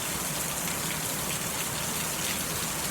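Heavy rain pours down in a dense, continuous hiss, loud and even, with no voices or other sounds.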